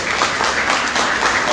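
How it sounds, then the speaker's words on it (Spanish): Brief, dense applause from an audience at a Guarani language tribute event, loud and steady with no break. "Un aplauso también para ella."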